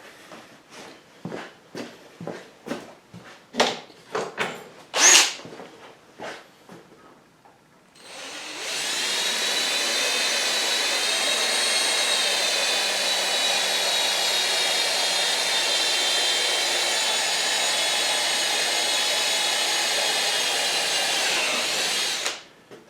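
A power drill bores through a motorcycle windscreen mount on a Suzuki DRZ400S in one long continuous whine for about fourteen seconds, preceded by a series of sharp knocks and clanks.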